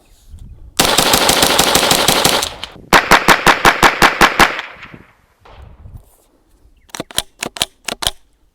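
Rapid semi-automatic shots from a Volquartsen Superlite 22 Magnum rifle: a long dense burst, then a second string of about a dozen distinct cracks, and a final cluster of sharp shots, loud and close with no talking.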